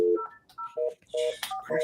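A series of short paired keypad tones from a landline phone, several beeps in quick succession with brief gaps, clear and close.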